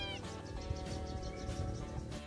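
Cats meow repeatedly at close range around a home with farm animals in the morning. The cries are fairly loud and come in a busy, continuous run over a dense background.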